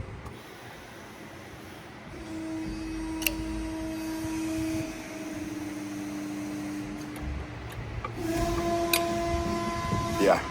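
A 275-ton CNC press brake bends a lawnmower shaft, its hydraulic whine and hum rising and falling in steady tones as the ram descends, with sharp clicks and a mechanical clunk near the end under room noise.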